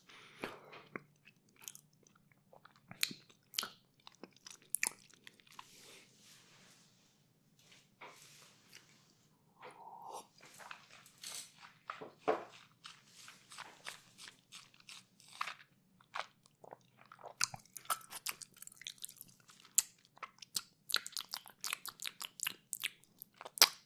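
Close, quiet mouth sounds of someone chewing and eating dark chocolate: crisp bites and crunches in irregular bursts, with soft wet chewing between them and no talking.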